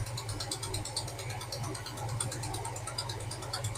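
Screws on a Power Wagon are worked loose with a ratcheting tool, a rapid steady clicking of the pawl that continues close by and fairly quiet throughout.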